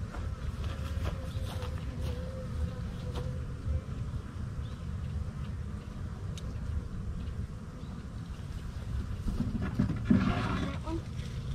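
Honey bees swarm around a valve box hive outdoors, a low dense buzzing hum that runs steadily throughout, with scattered faint clicks and handling noises near the end.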